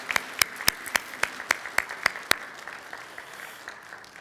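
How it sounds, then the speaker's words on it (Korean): Church congregation clapping during a Sunday service, a few distinct claps at first and then a brief, fading burst of applause. "우리 나가실 때 박수 한 번 더."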